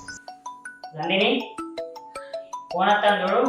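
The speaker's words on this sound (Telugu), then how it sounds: "ఫోన్ వస్తాను చూడు." A mobile phone rings with a bright, repeating electronic chime of short beeps. People talk over and between the rings indoors.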